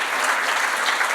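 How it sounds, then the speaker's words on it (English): Steady, fairly loud audience applause at a national symposium on health, justice and ageing, a brief wash of dense clapping with no pauses. "A round of applause"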